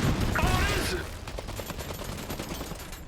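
Machine gun fire crackles in an alternate World War One strategy game, Iron Harvest: a rapid, steady stream of sharp bursts follows a short spoken line and continues to the end.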